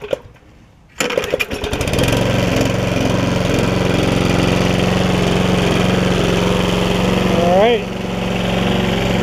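A 1996 Toro Super Recycler lawn mower engine starts after a second of quiet and runs loud and steady nearby, with someone talking over it.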